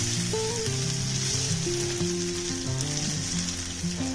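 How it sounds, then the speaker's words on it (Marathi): Stuffed eggplants in spicy masala fry in a pan for village-style bharli vangi, giving a steady, close sizzle that holds evenly throughout with no voices. "आणि हा मसाला सुद्धा चांगला परतून घ्यायचा आहे"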